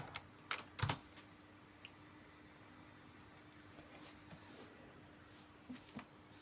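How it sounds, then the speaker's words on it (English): Quiet computer keyboard typing in a terminal: a few sharp key clicks in a quick cluster early on, then sparse isolated taps, over a faint steady hum. "I'm going to type npm run dev"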